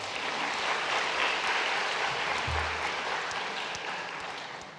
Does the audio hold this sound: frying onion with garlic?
no